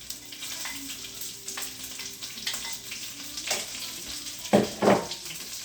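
Chopped onion and celery for a lasagna sauce sizzle and crackle in a hot pan after meat browning, with a steady frying hiss broken by a few louder stirring scrapes near the end, no talk.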